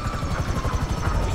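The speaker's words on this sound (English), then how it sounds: "We gotta take out that chopper!" A helicopter in Grand Theft Auto V during the Bureau Raid mission gives off a close, loud, continuous rotor thump with a fast, even chop layered over a heavy engine drone.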